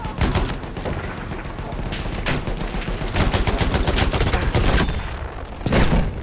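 Dense rapid gunfire and machine-gun bursts rattle continuously across a Battlefield 1 trench battle at night on the Nivelle map, with scattered louder nearby shots.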